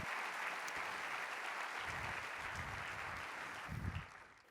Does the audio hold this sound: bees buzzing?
no